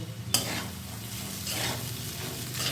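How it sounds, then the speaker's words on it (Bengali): Flattened rice (chire) being stirred in a hot pan for chirer polao, a continuous dry scraping and frying sizzle with a sharp spoon knock near the start and rhythmic sweeps of the spatula, close and steady. "এবারে দেখুন আমি কিন্তু সমস্ত চিড়েটা দিয়ে দিলাম। চিড়েটা দেওয়ার পর এটা খুব ভালোভাবে নাড়াচাড়া করতে হবে।"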